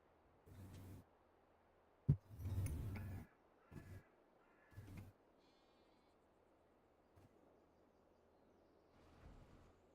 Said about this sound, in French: Mais il va arrêter de piailler comme ça, le mouton.